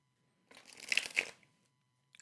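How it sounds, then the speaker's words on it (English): A deck of tarot cards shuffled once by hand: a quick, close, crisp riffling burst lasting under a second, followed by a faint tap as the cards settle, in an otherwise quiet room. "I was reluctant to shuffle the cards this way"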